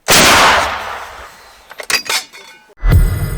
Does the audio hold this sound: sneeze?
no